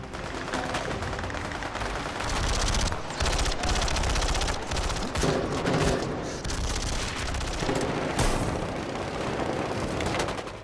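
Dense, continuous film gunfire fills a shootout during a coup against the Turkish president, with rapid machine-gun bursts and booming shots layered into a loud, unbroken barrage.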